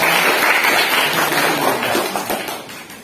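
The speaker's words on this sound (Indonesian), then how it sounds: "kita berikan tepuk tangan" Steady, dense applause from an audience at an academic supervision coaching session, filling the whole stretch at a fairly constant level and tapering slightly toward the end, with no talk over it.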